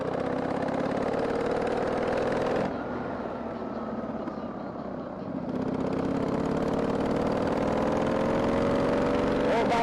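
A Harley-Davidson Sportster 883 engine runs with a loud, steady close-up drone whose pitch slowly climbs, dips briefly, then climbs again, ridden between spells of heavy rain.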